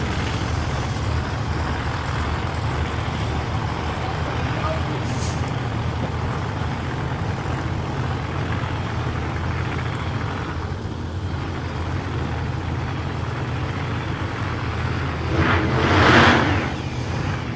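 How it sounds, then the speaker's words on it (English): Nostalgia drag racing cars roll up into the lanes in the pits, a steady low engine rumble with broadband road-vehicle noise, swelling briefly louder near the end. "Those cars rolling up now, their crew chiefs putting them in the lanes now."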